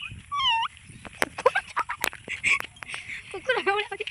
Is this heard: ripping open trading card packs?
no